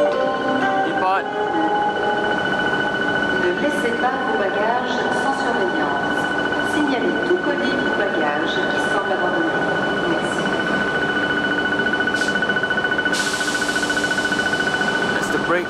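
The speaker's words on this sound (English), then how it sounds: "the brakes just being released and the train has just started to move" A French TGV high-speed train at a platform releases its brakes with a hiss and begins to pull away, a loud steady tonal whine from the power car holding throughout under intermittent talking.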